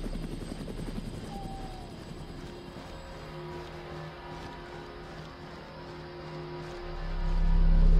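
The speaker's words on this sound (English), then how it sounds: "Helicopter, 10 o'clock. Stay low." Helicopter in the video game Chernobylite, a steady low rotor drone droning throughout at moderate level and swelling louder near the end as it closes in overhead.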